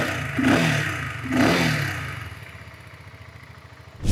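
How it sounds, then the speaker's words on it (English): A fuel-injected 2024 BSA Gold Star 650 single-cylinder motorcycle engine revs twice in quick blips, then settles into a steady, thumping idle, close and moderately loud. "So this is what a BSA 650 Gold Star sounds like in 2024."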